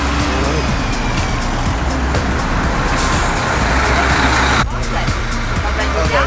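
An East Lancs 365 bus passes on a Blackpool street, its engine rumbling loudly and close amid steady traffic noise, with a brief hiss near the end.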